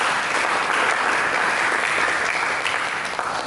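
A church congregation applauds during a Sunday service, many hands clapping in a loud, dense, even roar that holds steady for several seconds before easing slightly at the end.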